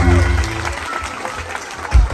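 An audience gives a short round of applause, a brief patter of clapping mixed with voices and a sustained tone at the start, with a louder burst near the end.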